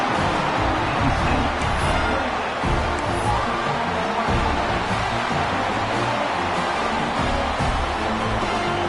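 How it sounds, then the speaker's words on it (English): A football stadium crowd keeps up a steady, dense roar right after a late touchdown and extra point, the broad wash of many voices holding at a constant level throughout with no single voice standing out. "this crowd is buzzing after that last score"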